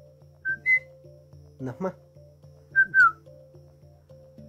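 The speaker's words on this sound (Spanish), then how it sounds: "El mazateco chiflado nace a través de la necesidad de comunicarnos a grandes distancias." Mazatec whistled language, with short clear whistled phrases in pairs, some sliding in pitch, separated by pauses over a steady low hum, plus a brief spoken word in between.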